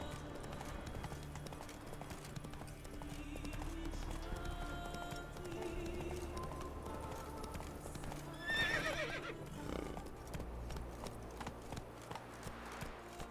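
The horse Roach gallops in the video game The Witcher 3, its steady clip-clop of hooves running throughout, with a sharp neigh near the middle, all set against a quiet game soundscape.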